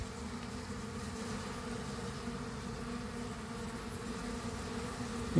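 Honeybees swarm and buzz around a hive box during a hive inspection, a dense, steady drone of many insects close by that fills the whole stretch with no letup.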